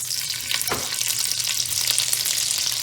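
Butter sizzles in heated oil in a pan while Tuscan shrimp is being cooked, a steady broadband frying hiss at close range that swells briefly as it goes in, with no talking.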